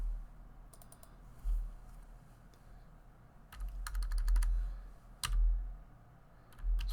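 Computer keyboard and mouse clicks rattle in quick irregular clusters during molecular modeling work, close and crisp over a faint background hum.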